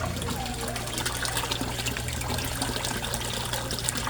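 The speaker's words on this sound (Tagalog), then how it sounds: "Pero ang lakas-lakas pa rin ng air pump. Ng aerator pump." A Resun aerator air pump bubbles steadily in a koi pond, giving a continuous rushing, watery churn with a low hum beneath, close and constant without any talking.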